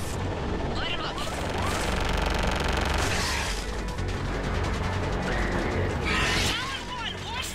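Air support gunfire in Mass Effect 3 pours down on ground targets in dense, continuous bursts of rapid shots and heavy impacts, loud and close throughout.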